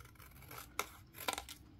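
Scissors snipping through a fridge-magnet calendar sheet, two or three quiet, close crisp cuts with soft rustling between them.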